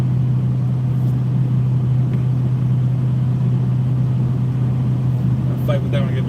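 A car with a loud sport exhaust drones steadily from inside the cabin at cruising speed, a constant low rumble throughout, with a brief faint voice near the end.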